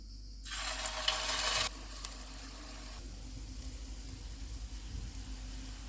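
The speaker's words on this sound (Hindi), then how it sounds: "अब ये गर्म हो गया, हम चूल्हे को कम कर देते हैं और इसमें कबाब डाल देते हैं।" Beef reshmi kebabs drop into three tablespoons of hot oil in a frying pan over lowered heat, giving a bright sizzling burst of about a second before it settles into a faint, steady low simmer.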